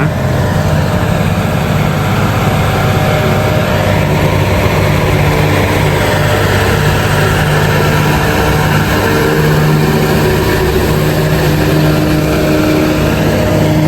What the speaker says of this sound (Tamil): இது பாருங்கள் தண்ணி லாரி எவ்வளோ ஸ்லோவாக